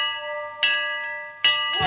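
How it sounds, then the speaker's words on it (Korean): A school bell rings to signal the first class, two clear metallic strikes about a second apart, each ringing out with a sustained tonal hum, loud and close. "신호는 첫 수업을 알리는 종소리였습니다"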